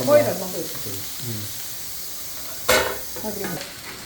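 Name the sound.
okra stir-frying and sizzling in a pan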